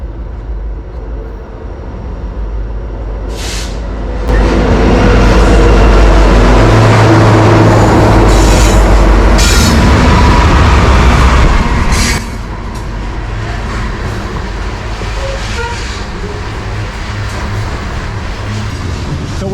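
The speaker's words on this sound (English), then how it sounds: "So what you're looking at is a full coal train" A heavy, fully loaded coal train rumbles steadily past nearby, with a loud, sustained roar of wheels and cars that swells in the middle and eases off toward the end.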